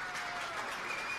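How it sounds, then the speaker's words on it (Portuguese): A brief burst of steady crowd clapping, dense and even throughout, greets the women who decorated the hall at a fado night during a Holy Spirit festival in Gustine. "eu quero pedir uma salva de palmas para as senhoras que decoraram esta sala"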